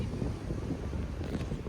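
Strong wind gusting at a beach in the Netherlands, a continuous low rumbling buffet across the microphone, fairly loud and steady, with no clear talk.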